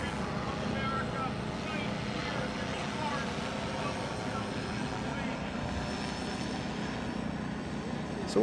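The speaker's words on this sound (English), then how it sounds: "So what the hell is this drone doing?" A tethered police surveillance drone hovers overhead at an outdoor presidential campaign rally in Butler, Pennsylvania, its steady droning whir blending into a continuous broadband crowd and wind hum for the whole stretch.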